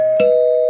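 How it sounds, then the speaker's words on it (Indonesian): A doorbell rings as a sound effect in an Indonesian radio drama, a clean electronic chime with a sharp strike followed by a sustained bright tone, loud and close with nothing else around it. "mendengar bel pintu yang berbunyi"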